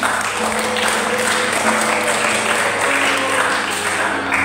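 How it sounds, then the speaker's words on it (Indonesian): Classmates at a junior high school outing clap for a fellow student after an answer in a lesson, steady dense applause carrying at moderate loudness through the whole stretch with some voices mixed in. "Oke, tepuk tangan buat temannya"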